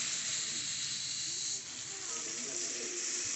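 Chopped tomatoes hitting hot oil already seasoned with whole cumin and a bay leaf, giving a steady, close, broad sizzle and hiss that holds evenly throughout with no talking.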